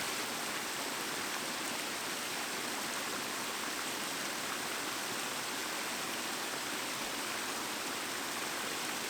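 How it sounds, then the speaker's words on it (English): A swollen, fast-flowing river rushes in a steady, dense roar, loud and close from the river's edge, continuous without pauses or voices. "The river's swollen, it's moving quick."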